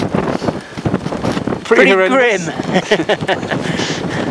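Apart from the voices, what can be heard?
strong wind gusts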